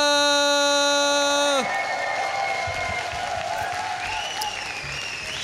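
A crowd applauds and cheers for StarCraft player Liquid.Taeja at a HomeStory Cup match: a sustained electronic tone rings first, then cuts to steady, dense clapping with scattered voices throughout.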